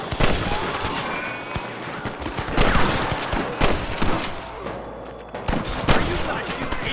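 Dense gunfire at rustlers in the Red Dead Redemption game, rapid overlapping shots and cracks in a continuous fusillade with near and far reports layered over a busy background.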